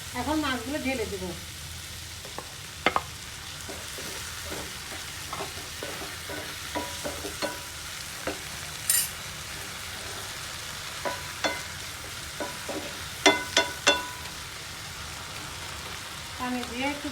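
Small fish frying in a pan with salt and turmeric for a home lunch dish, a low steady sizzle throughout with scattered sharp pops and crackles, fairly quiet and close, no voices.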